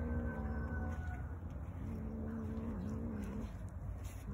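A cat growls low and steadily at close range, a continuous rumbling purr-like drone that resembles a motorcycle engine idling, quiet and unbroken.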